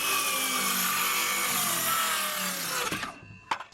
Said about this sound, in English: just going to be using my circular saw to make this cut here